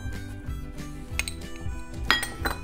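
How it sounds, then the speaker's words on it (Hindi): Spices for a sweet potato and chickpea dish mixed in a bowl, a spoon scraping and clinking against it in an uneven rhythm, close and moderate, no talk. "सबसे पहले हम बाउल में ये सारे मसाले मिक्स कर लेंगे।"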